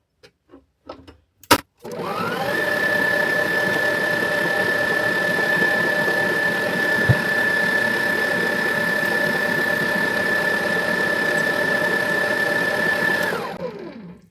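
A few clicks and knocks lead into an electric mixer mixing Oreo cookie dough. It runs a steady, loud whining drone for about twelve seconds, then winds down and stops, with no speech.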